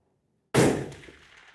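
A single rifle shot fired downrange during bore sighting, a sharp loud crack out of silence followed by a short decaying echo.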